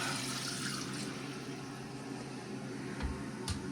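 Toilet tank refills with water after the wax ring was replaced, a steady close hiss and rush of inflowing water over several seconds, with a couple of faint knocks near the end.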